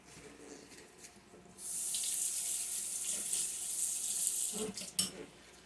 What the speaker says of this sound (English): And I'm going to wash this off.